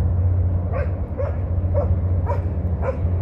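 A dog barks five times at a steady, even pace over a low, continuous engine-like hum, on the Wan Chai waterfront promenade in Hong Kong.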